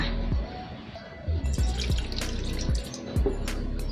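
Clean water is poured into a container for a fish sauce pickling mix, with close splashing and dripping in short bursts.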